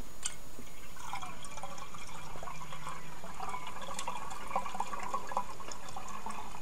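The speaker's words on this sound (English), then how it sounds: "take the bung out there and top up with cool boil water." Cool boiled water poured into an orange wine demijohn to top it up, a steady trickling and dripping fill that runs continuously and fairly faintly throughout, with no talking.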